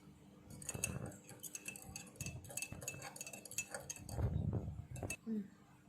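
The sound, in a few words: spoon stirring tea powder in water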